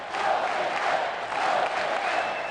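Baseball crowd in Lincoln cheering after Nebraska takes a 1-0 lead, a broad, sustained roar of many voices filling the stadium at steady loudness.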